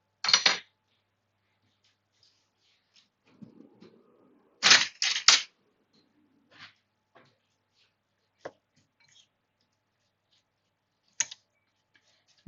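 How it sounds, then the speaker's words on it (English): A spoon stirs garlic into a walnut salsa, making a few sharp, close taps and clinks against the bowl, separated by near silence. "I need a spoon for actually stirring this"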